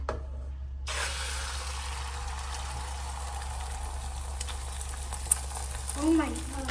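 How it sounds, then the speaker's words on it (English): Scrambled egg fries in oil in a pan, a soft steady sizzle heard close up beneath a constant low hum, with faint stirring scrapes and a voice near the end. "We're going to make scrambled egg. And we're going to fry it."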